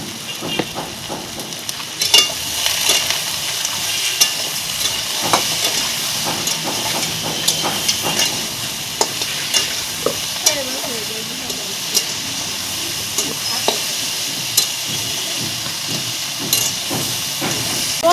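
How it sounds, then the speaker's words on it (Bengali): Taro stolons (kochur loti) frying with turmeric in a pan give a steady close sizzle and hiss, broken by frequent small crackles and stirring clicks throughout. "লতিটা ভাজা হচ্ছে"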